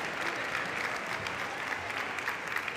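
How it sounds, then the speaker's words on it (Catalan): Steady applause from an audience fills a graduation ceremony hall without a break, broad and even, with no voices standing out above the clapping. "Abans que surti la Clara hem d'aplaudir una mica més, Clara González Baril."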